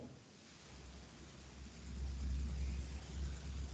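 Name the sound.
rain falling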